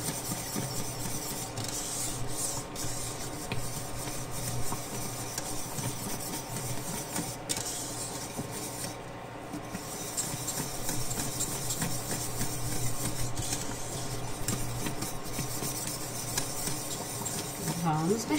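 A whisk stirs chocolate brigadeiro in a pan and scrapes the bottom, making a steady, continuous rasping and rubbing sound that stays fairly quiet and close and never lets up.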